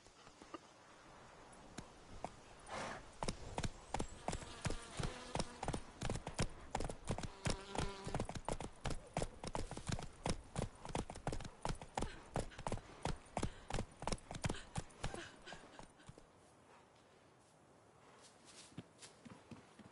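Roach, the horse in The Witcher 3, clip-clops along in a steady, evenly paced run of hoofbeats, close and distinct, before the steps stop and leave quiet ambience.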